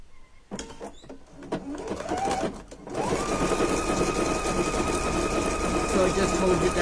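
A sewing machine stitches fabric on a decorative stitch setting while sewing an apron, with a few short bursts and a pause before it settles into a steady, close, continuous whirring run.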